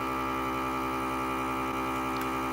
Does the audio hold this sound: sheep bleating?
no